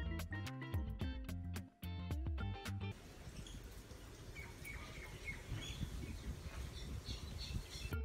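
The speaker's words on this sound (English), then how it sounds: "P for parrot." A parrot squawks in a run of sharp, scratchy calls and chirps over a noisy background, preceded by about three seconds of bright plucked music.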